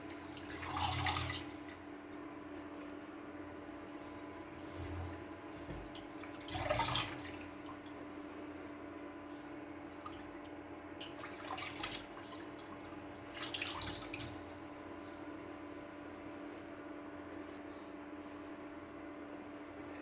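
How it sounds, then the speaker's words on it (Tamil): Small-leaf spinach greens being rinsed a second time in water in a cooking pot, a few brief splashing bursts spaced several seconds apart over a low steady hum, faint and without speech. "இப்போது திரும்ப 2வது அலசி சமைக்கிற பாத்திரத்தில் எடுத்து வைக்க போகிறேன்."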